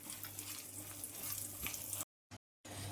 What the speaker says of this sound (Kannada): ಗೋಡಂಬಿ ಸ್ವಲ್ಪ ಕಂದು ಬಣ್ಣ ಬರೋವಷ್ಟು ಹುರ್ಕೊಳ್ಳೋಣ